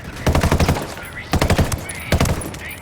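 Rapid bursts of automatic gunfire in a Ghost Recon firefight against cartel forces, three loud close volleys of fast repeated shots separated by short pauses.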